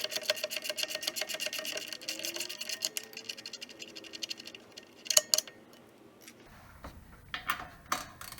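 Rear brake-area bolts of a Jeep JK loosened with an 18mm wrench under the vehicle: a rapid ratcheting buzz for several seconds, then scattered metallic clicks and clanks, close and alone.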